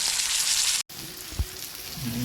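Pomfret fillets frying in a home pan give off a steady, close, bright hiss of sizzling oil, broken by one short silent gap and a single soft knock.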